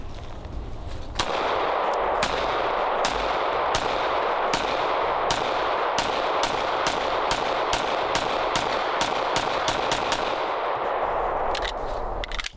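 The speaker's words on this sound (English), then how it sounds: "let's go ahead and start off with the CZ and see how this guy shoots and feels" A CZ Shadow 2 pistol fires a string of about eighteen sharp shots at a steady, fairly quick pace on a range, each crack standing out over a constant background hum.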